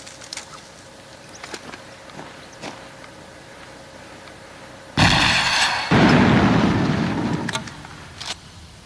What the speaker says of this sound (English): The M3A2 Maws is shoulder-fired artillery.